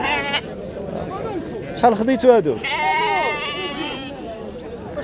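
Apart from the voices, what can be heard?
sheep bleating at a livestock market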